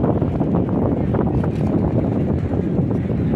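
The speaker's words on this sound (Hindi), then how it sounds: "बहुत तेज हवा चल रही है।" Strong wind buffets the microphone continuously at a riverside ghat in Haridwar, with rushing water beneath it. The roar is loud and broadband and runs steadily throughout, with no talk.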